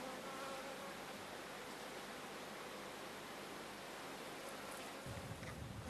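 Honeybees from a hive colony buzzing steadily as a dense, continuous hum, close and unbroken for the whole stretch, with a slight shift in tone near the end.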